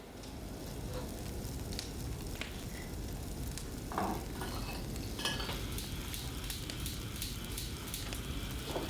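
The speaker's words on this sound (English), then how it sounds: "Pour in 2 tablespoons of sugar and stir." Sugar is stirred into a mix of soy sauce and Japanese mirin with a utensil, giving soft continuous scraping and clinks against the pan, with occasional louder taps and a faint sizzle in the background.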